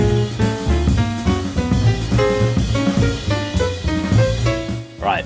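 Short jazz drum comping phrase from the album version of a track, syncopated snare and bass drum accents over ride cymbal beneath full band harmony, loud and continuous.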